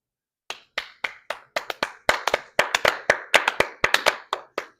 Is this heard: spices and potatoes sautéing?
no